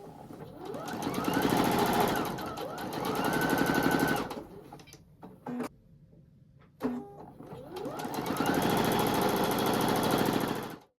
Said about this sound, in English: Now I'm ready to sew this together. I'm just going to start by sewing the rows first.